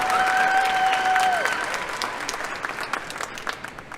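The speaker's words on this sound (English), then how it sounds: "Please join me in applauding Mrs. Bobbitt and all she's done to get these" An audience claps at a graduation ceremony, a steady wash of applause that gradually thins and fades toward the end, with a sustained tone lingering briefly at the start.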